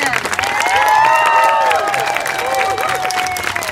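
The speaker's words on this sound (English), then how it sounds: "Let's give a big round of applause for him." Audience applause at a student presentation event, a loud, continuous wash of clapping mixed with cheering and overlapping voices, filling the whole few seconds at close range.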